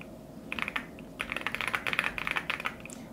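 Rapid clacky keystrokes on an Epomaker Shadow-S mechanical keyboard, close and crisp, in uneven bursts with brief pauses and no talking.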